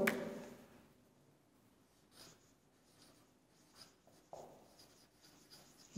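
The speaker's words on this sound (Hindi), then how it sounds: "एक और सेंटेंस में लिखता हूं." Pen or pencil writing out a sentence on paper, with soft scratchy strokes in short bursts close to the microphone, quiet, against a faint background.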